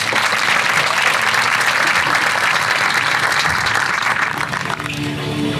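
A large crowd at a city State of the City address gives loud, sustained applause for council members, a thick wash of clapping that thins slightly toward the end.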